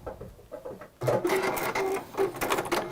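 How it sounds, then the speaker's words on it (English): A sewing machine top stitching along the bottom edge of a fabric piece: a quiet start, then a steady loud whirring run of fast needle strokes that lasts to the end. "I'm just going to top stitch along that bottom bit."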